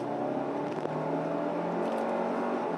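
Hyundai Santa Fe hybrid engine under hard, full acceleration, heard from inside the cabin as a steady rising drone and whir with road noise, no talk over it.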